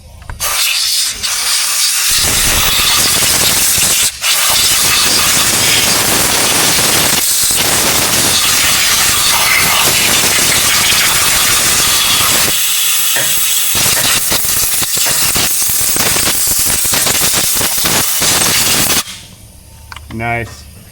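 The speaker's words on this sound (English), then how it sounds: "Air pressure." Compressed air pressure bursts out in a loud, continuous, broadband hiss lasting nearly twenty seconds, with brief dips and a few sharp cracks, then cuts off abruptly and fades into quiet.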